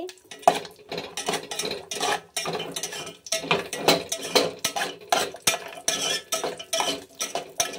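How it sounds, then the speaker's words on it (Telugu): Cashews and raisins fry in a pan for dates halwa while a utensil stirs and scrapes them in a steady, rhythmic clatter with a soft sizzle underneath, close by. "అవి వేసుకుని బాగా ఫ్రై చేసుకోవాలండి"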